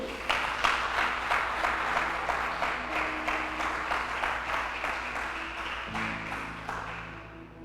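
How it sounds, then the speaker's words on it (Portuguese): A church congregation claps in a steady, rhythmic applause, fairly distant and soft. Sustained organ or keyboard tones play underneath and shift near the end. "Você pode dar um aplauso ao Senhor aí?"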